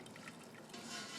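Hot water is poured through brewing grains and drains into a boil pot, giving a quiet, continuous trickling and splashing that swells slightly toward the end.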